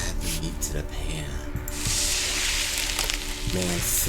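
Meat sizzles and hisses steadily in a hot pan in a horror cooking video game, the frying growing louder midway, with a voice talking briefly over it.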